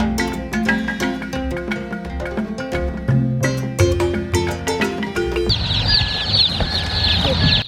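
A large batch of around 75 baby chicks cheeps in a dense, high chorus of peeps that swells louder near the end, close by, with some background sounds and murmuring voices earlier.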